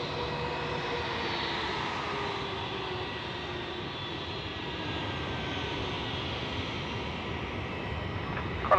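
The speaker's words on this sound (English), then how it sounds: "I think that spool up, not only the engine start, but that genuine spool up was just outstanding." A jet aircraft engine spools up at night at Melbourne's airport during plane spotting, a steady broadband roar that holds loud and even throughout with no talking.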